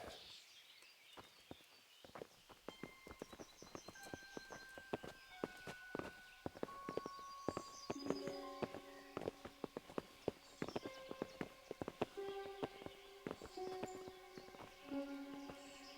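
Horse hooves in the video game Kingdom Come: Deliverance clip-clop at a steady walking pace, many crisp knocks layered with sustained musical tones and faint ambient noise.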